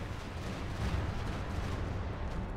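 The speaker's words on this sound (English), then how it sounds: "Barrage going off" An artillery barrage pounds away in Company of Heroes 2 during a 2v2 match on Vaux Farmlands, a steady, fairly faint rolling rumble of low booms with no clear gaps.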